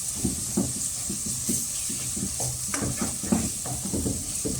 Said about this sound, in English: Let's mix it and let it cook for about 1 minute.